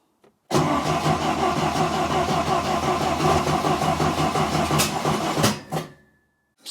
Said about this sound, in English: Just put the electrics on and turn it over on the starter until the oil light goes out.